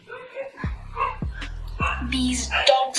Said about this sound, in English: these dogs' noise are very bad nowadays